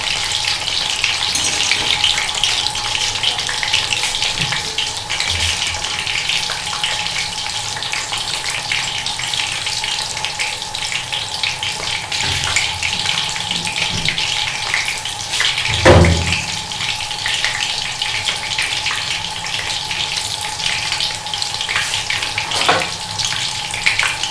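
Chicken sizzles steadily in hot oil as the pieces are turned to the other side, a dense close frying hiss with a few louder clatters and splashes mid-way, and no voices.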